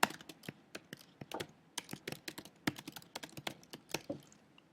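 A computer keyboard clicks in quick, irregular bursts of typing with short pauses between them, close and clear, with no voice heard.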